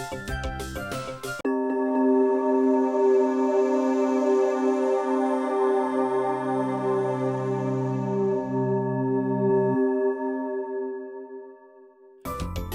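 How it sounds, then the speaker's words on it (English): A Korg Wavestation synthesizer sustains a long, shimmering vector-synthesis chord whose blended timbres slowly shift and fade, with a low layer entering midway and dropping out, framed by brief busier passages at start and end. "So vector synthesis is basically playing up to 4 different timbres at once and then moving or fading"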